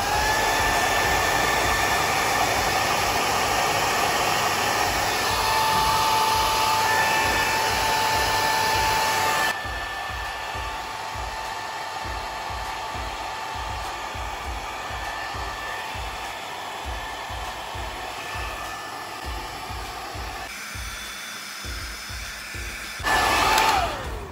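A hair dryer blows steadily and close while hair is styled and dried in a salon, its loud whooshing drone shifting in tone as the airflow is adjusted, then briefly cutting off near the end.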